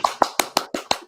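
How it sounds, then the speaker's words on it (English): A single pair of hands claps six times in a steady, fairly quick rhythm, each clap sharp and close with a short decay, with no voices alongside. "give yourself a round of applause"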